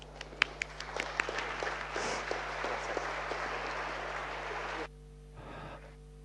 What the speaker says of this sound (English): So let's please receive him with a warm applause.